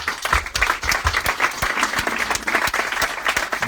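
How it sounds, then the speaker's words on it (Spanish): Audience applause fills a bookshop during a book presentation by Ian Gibson, a dense, steady patter of many hands clapping at close range for several seconds with no voices over it. "un gran aplauso"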